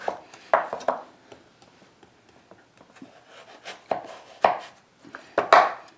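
Knife slicing lengthwise through raw butternut squash into 1.5-inch cubes, giving several crisp, separate chops on a cutting board with quiet gaps between them, close and fairly loud.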